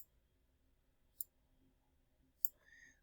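A computer mouse clicks twice, sharp and faint, about a second apart, while cells in a spreadsheet are highlighted by dragging, over a low quiet room hum.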